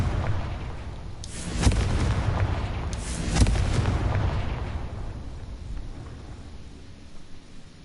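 Confringo explosion spells are cast in the video game Hogwarts Legacy, two sharp booming blasts a couple of seconds apart, each trailing into a rumbling decay over low background noise.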